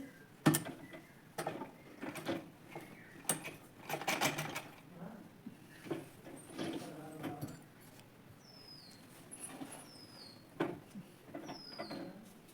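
A sewing machine stitches along the edges of waste fabric in short, uneven bursts of fast ticking and whirring, interrupted by scattered clicks and faint high chirps.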